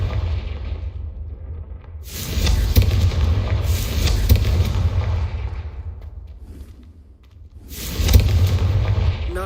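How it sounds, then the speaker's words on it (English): Confringo fire spell cast in the Hogwarts Legacy video game, heavy booming explosive blasts with rumbling low end in two long loud bursts separated by a brief lull, no talk. "a Confringo cast travels a bit farther than that of a spell like Incendio"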